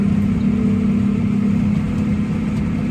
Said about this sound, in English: I've never driven a tractor with tracks.